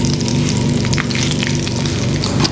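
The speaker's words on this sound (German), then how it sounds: "So, wenn wir sie angebraten haben, müssen wir die Wachtel wieder rumdrehen." Loud, close sizzling and spitting of porcini-stuffed quail searing in a hot pan, crackling continuously with a few sharper pops.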